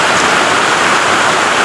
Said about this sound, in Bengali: আজ বৃষ্টি হচ্ছে। স্বস্তির বৃষ্টি।